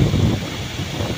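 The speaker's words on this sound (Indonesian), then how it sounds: "Aduh, anginnya kencang sekali." Strong wind buffets the microphone while fishing out at sea, a steady low roar with gusty swells and no talk.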